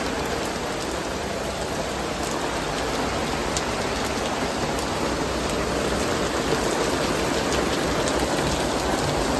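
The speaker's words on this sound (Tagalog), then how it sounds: "Guys, nabutan kami ng ulan." Steady heavy rain pours down, a dense continuous hiss of drops hitting surfaces close by, with no voices.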